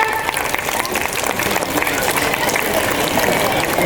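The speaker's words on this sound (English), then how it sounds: "Big claps to them, parents, all of you" Parents and guests clap together at a school Children's Day celebration, a steady wash of crowd applause heard while a voice keeps talking over it.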